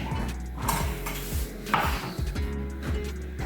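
A knife chopping cilantro on a cutting board, quick steady knocks repeating in an even rhythm, close and fairly quiet, with faint kitchen clatter in the background.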